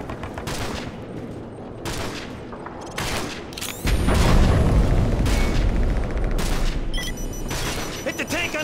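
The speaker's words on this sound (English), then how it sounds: "The air corridor is clear for our A-10s to commence gun runs." Heavy gunfire and booming explosions from A-10 gun runs erupt in a Call of Duty: Modern Warfare 3 battle, sharp bursts, then a dense sustained roar, with radio voices speaking over the combat.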